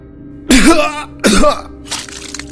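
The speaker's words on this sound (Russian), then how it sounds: "Мудзан кашляет кровью." Two harsh, close coughs in quick succession, followed by a softer, raspier cough, from the Demon Slayer video game character Muzan coughing up blood.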